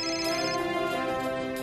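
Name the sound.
mobile phone ringtone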